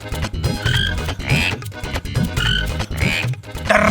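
Frogs croak loudly in a Hindi fantasy TV serial, repeated deep pulsing croaks in a steady rhythm, close and dominant throughout.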